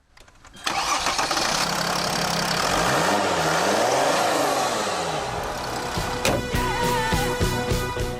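A Chrysler 300C with a 3-liter six-cylinder engine cranks and catches, then runs loudly with rising and falling revs, close and continuous, ending with a few knocks and clicks.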